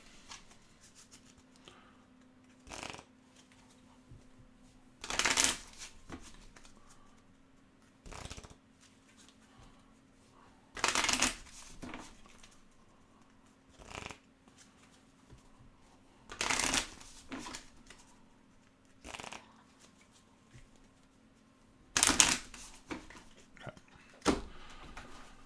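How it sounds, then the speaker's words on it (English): Tarot cards are riffled and shuffled in short bursts, five or six brisk close shuffles separated by quiet pauses with faint handling noises. "It's not a perfect shuffle, but it'll be enough."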